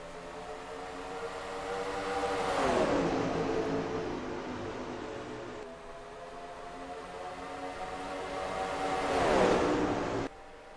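Stock race cars roar past at Chicagoland in a racing video game, engines accelerating under a green flag with rising and falling pitch as two loud pass-bys sweep through, no talk.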